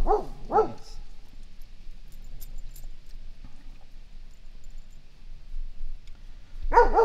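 A dog in a workshop where a Hustler Raptor SD zero-turn mower is being repaired gives two quick, close barks, then goes quiet before a final short bark-like yelp at the end.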